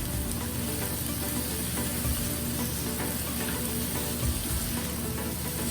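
Boiled, cubed potato being stirred into paneer pulao frying on a tawa, with a steady sizzle and faint scraping of the spoon throughout, no voices.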